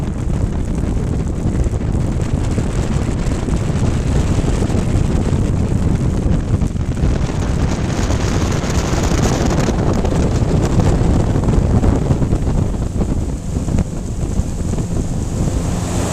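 Strong wind buffets the microphone over the rushing of water along the hull of a moving Regal 2860 boat, a loud, continuous roar with gusty swells.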